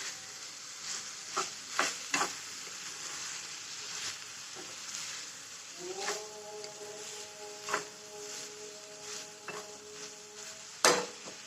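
Tomatoes fry in a pan on a gas stove with a soft, steady sizzle, broken by occasional sharp clinks and scrapes of a stirring spoon against the pan.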